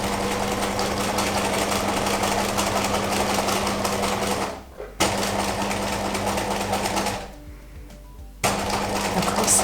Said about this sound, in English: on my machine I'm just going to reverse stitch it a couple of stitches just to secure them, and then I'm just going to sew along